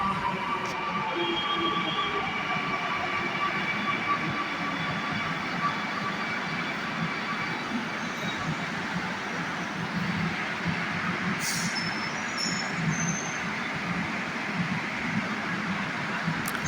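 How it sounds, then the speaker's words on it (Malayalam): A Kochi Metro train rolls into a station with a steady mechanical rumble and hum that holds at an even level, closing in without pause, and no talk over it. "നമ്മളുടെ ട്രെയിനും ഇതാ വന്നുകൊണ്ടിരിക്കുകയാണ്"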